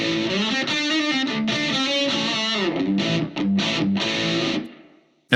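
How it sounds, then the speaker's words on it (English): A humbucker-equipped electric guitar plays through a Blackstar St. James 6L6 amp and cabinets with an overdriven crunch tone, chords and single notes ringing loud and continuous before fading out, with noticeable room sound and reverb. "so I've dialed in a nice crunch sound."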